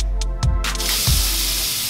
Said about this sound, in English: I just finished spraying the good stuff in the hair